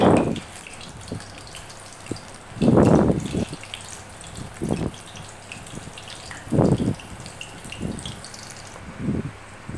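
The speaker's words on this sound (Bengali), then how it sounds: "একটা দুটো করে আমি ভেজে নেব ফুলে উঠেছে" Taro fritters (kochur bora) frying in hot oil, with bursts of crackling sizzle that swell and fade every couple of seconds over a quieter, steady bubbling background.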